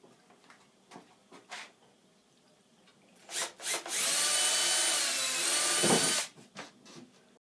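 A 6090GZ CNC machine drills and bores holes in a spoiler board, a loud steady whine of about two seconds that follows a few short knocks and taps and ends in quieter clatter.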